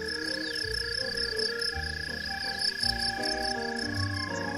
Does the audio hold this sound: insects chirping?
yes